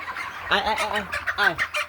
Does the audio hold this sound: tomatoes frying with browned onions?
no